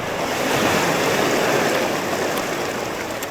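Ocean waves wash around a kayak out fishing off Johor, a steady, close rush of surf and water noise with some wind, continuous and without talk.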